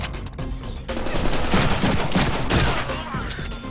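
Dense gunfire in the Deadpool video game on Xbox 360, loud continuous bursts of rapid shots blurring into a sustained barrage with no talking.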